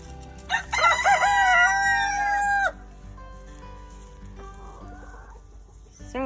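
A nearby rooster lets out one loud, drawn-out crow, then quieter chickens cluck softly in a farmyard flock, with no talking.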